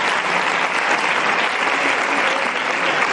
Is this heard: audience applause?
yes